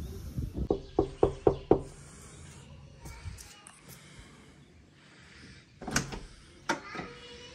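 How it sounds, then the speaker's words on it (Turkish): Knocking on a house door before a farm-themed birthday party: a quick, loud run of about six raps, then quieter rustling and a couple of later sharp knocks or bangs. "Kapıyı çalalım."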